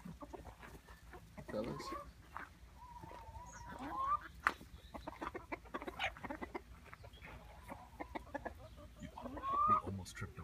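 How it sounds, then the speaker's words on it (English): A chicken clucks close by at a sunny outdoor gathering, with soft repeated clucks and a few higher squawks over steady background chatter, while a person nearby speaks briefly. "You almost tripped over a chicken."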